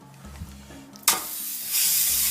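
Quiet at first, then a sudden loud hiss of lamb hitting a preheated pan, settling into steady browning sizzle that swells louder near the end.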